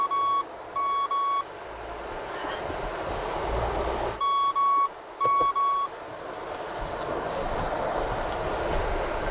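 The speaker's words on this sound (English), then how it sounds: "It lets me know when there's somebody coming beside me or behind me." A rental car's proximity warning sounds two sets of three short electronic beeps a few seconds apart, loud and close over a steady road and engine rumble inside the moving car.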